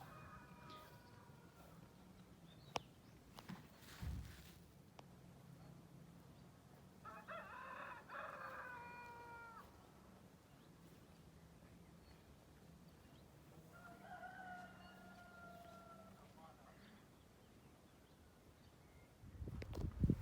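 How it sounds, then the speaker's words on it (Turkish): Chickens and roosters in Veliköy village, Şavşat, Artvin, with two rooster crows and some clucking, heard from a moderate distance over a faint, quiet rural background. "Tavuklar, horozlar."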